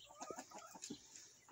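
A flock of backyard chickens clucks faintly in a few short, scattered calls, quiet and somewhat distant with no talking.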